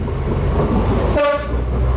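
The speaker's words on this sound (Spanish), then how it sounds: "Ahora que llega un tren. Ahí llega, mira." A train arriving near the cave villages of Ribadesella gives a loud, close horn toot over a steady rolling rumble of the wheels, the blast lasting about a third of a second before the rumble carries on alone.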